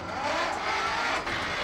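A 1954 Mercedes single-cylinder 12-horsepower tractor engine runs steadily up close, a loud continuous mechanical drone with no voices over it.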